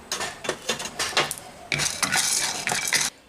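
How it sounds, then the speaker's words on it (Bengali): Dry peanuts rattle and scrape around a dry metal wok as they are roasted and stirred, a steady run of clattering scrapes with brief pauses, close and fairly loud. "বাদামটাকেও আমি শুকনো কড়াইতে রোস্ট করে নিচ্ছি"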